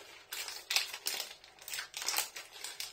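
Crinkly plastic chocolate wrapper being torn and crumpled up close, in repeated bursts of rustling with short pauses between.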